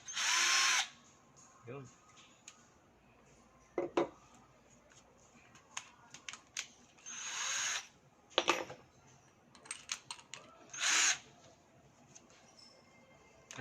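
A Vanderbilt cordless drill runs in several short, close, loud whirring bursts separated by pauses, with brief quiet talk and handling clicks between them.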